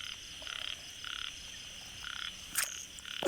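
Narrow-mouthed frogs calling after fresh rain, repeated buzzing croaks in short bursts with pauses between, fairly close, followed near the end by louder sharp knocks or splashes.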